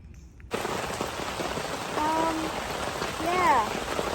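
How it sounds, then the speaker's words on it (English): Steady rain falls at a wet campsite, a dense close hiss of drops on surfaces that starts abruptly and carries on throughout, with brief voices and faint whistling tones heard under it. "fun to camp in the rain"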